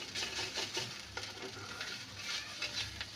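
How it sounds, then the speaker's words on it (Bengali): Ginger and onions fry together in a pan with a low, steady sizzle, broken by repeated scraping and stirring strokes, quiet and close, with no speech. "আদা দিয়ে দিয়েছি, দিয়ে ভাজছি একটু"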